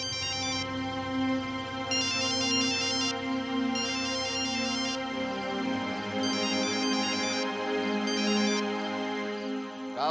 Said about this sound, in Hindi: मुख्यमंत्री का फोन।